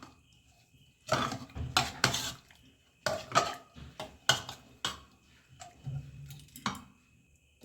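An egg is cracked into hot, freshly pressure-cooked dal, heard up close as a scattered series of sharp taps and clinks against a vessel, separated by short quiet gaps.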